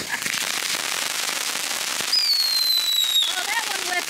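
A Fourth of July firework crackles and rattles steadily, then a long high whistle rises over the crackling for about a second before fading, with a voice briefly reacting.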